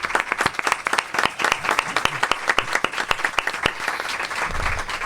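An audience applauds steadily at a formal presentation ceremony in Argentina, a dense crowd of clapping hands sustained for several seconds at moderate loudness.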